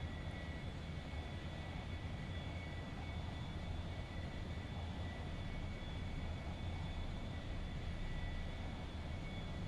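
Steady airplane engine drone inside a flight simulator game, a constant loud hum with a faint high whine running unbroken throughout.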